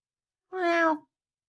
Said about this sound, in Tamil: பக்கத்தில் பூனை வச்சிருக்கேன் பாரு